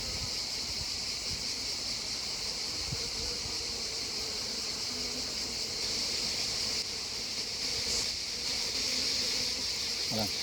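Honey bee swarm being tended by a beekeeper, giving a steady, dense insect buzz that runs continuously and fairly close, with a few faint handling noises and no speech over it.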